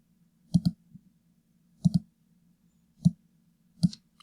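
Computer mouse clicking during Photoshop editing: four crisp click bursts, the first two each a quick double click, the later ones single, close and fairly quiet against a faint steady hum.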